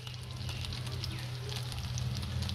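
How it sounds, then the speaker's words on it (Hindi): Fish shami kebabs fry on low to medium heat in a frying pan, a soft, even sizzle with faint pops, fairly quiet under a low steady hum. "ये जी इस तरह फ्राई पैन में फ्राई करने के लिए डाले हैं जी इन शामी कबाबों को"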